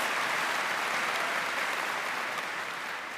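Steady, even applause from a large audience at a university commencement ceremony for the Class of 2022, a soft wash of many hands clapping at a distance that holds without a break and eases slightly at the end.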